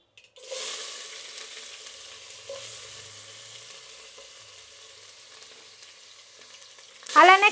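Onion added to hot oil with mustard seeds: a sudden sizzle that settles into a steady, even frying hiss, then a loud, crackling burst at the end.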